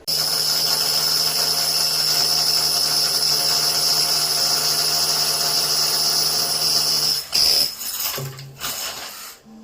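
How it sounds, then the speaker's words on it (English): A power drill whines steadily at high pitch for several seconds while drilling through a wall from outside, then sputters and stops with a few clunks and rattles. "that's why you always drill from outside"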